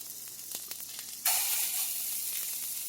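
Mushrooms sizzle in a cast iron skillet on a Birmingham Stove and Range stove, a steady hiss that suddenly jumps louder and brighter partway through and then holds, with a few faint clicks early on.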